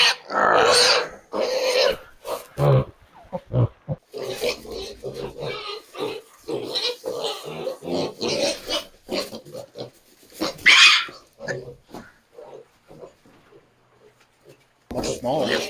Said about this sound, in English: Slippery pigs.